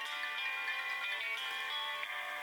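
A phone ringtone plays a steady tonal ringing pattern, moderately quiet and continuous, with no voices.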